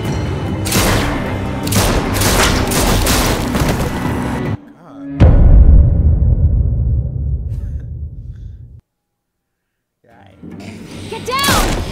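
Gunfire and heavy booming thuds in The Walking Dead Season 4 video game as survivors shoot at walkers, dense bursts for several seconds, then a loud thump with a decaying rumble, a silent gap, and a faint vocal sound near the end.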